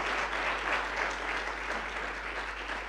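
Church congregation applause at a Spanish-language sermon, a dense, even wash of many hands clapping that holds steady throughout, with no voices on top.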